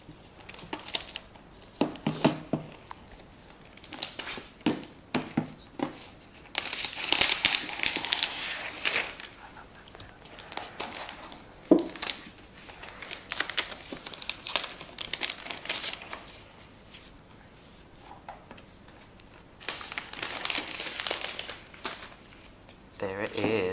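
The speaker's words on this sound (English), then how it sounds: "let's unwrap the plastic" Crinkly plastic wrap pulled off a new 15-inch space grey MacBook Pro with Touch Bar in its box, coming in irregular close rustles and crackles between stretches of quiet speech.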